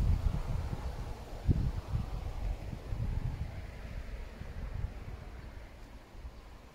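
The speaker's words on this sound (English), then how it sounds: "Yeah, sorry, it's very windy." Wind gusts outdoors in a garden of pepper plants, buffeting the microphone with low rumbling noise that is strongest at first and slowly eases, with no voices.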